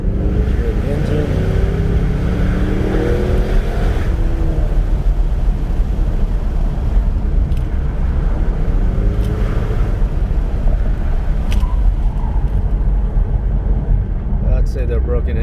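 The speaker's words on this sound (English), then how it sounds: "Lower the windows down, hear the engine." A 2016 Ford Mustang engine drones loudly and steadily while the car drives through canyon roads with the windows lowered, a dense rumble mixed with wind noise and no talking.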